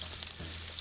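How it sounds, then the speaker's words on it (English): Shrimp frying in hot vegetable oil in a frying pan, a brief soft sizzle with faint crackles and a low steady hum, no talking. "I'm going to add some vegetable oil and then start placing our shrimp in here"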